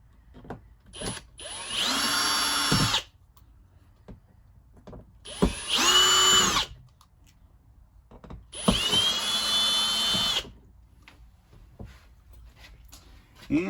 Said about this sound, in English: we're going to remove the screws